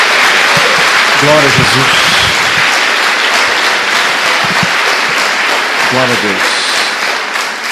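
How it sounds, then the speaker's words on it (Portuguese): A church congregation claps loud and continuously for Jesus during a worship service, dense applause filling the room while voices call out praise over it twice. "Dê uma salva de palmas a Jesus"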